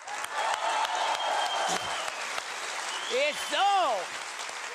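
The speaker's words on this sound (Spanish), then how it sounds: "Vamos a brindarle un fuerte aplauso" An audience in a television show setting claps loudly and steadily, with a voice calling out over the applause and a brief whoop or cheer near the end.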